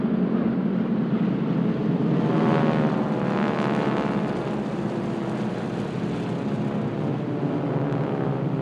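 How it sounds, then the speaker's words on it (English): A large formation of Harvard, SNJ and T-6 propeller aircraft passes over an air show, their radial engines blending into a loud, continuous droning roar that swells slightly and then holds steady, with no talk. "let you enjoy the sound of the Harvards, the SNJs, the T-6s"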